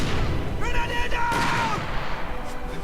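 Light machine guns chatter in Company of Heroes 2 combat, with dense bursts of battlefield gunfire and distant booms mixed under a commentator's steady talk.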